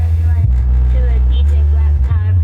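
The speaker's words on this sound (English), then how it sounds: "That's heavy distortion on that bass." Heavily distorted bass from a track booms loud and sustained with gritty low rumble, overlaid by vocal-like tones that wander above it.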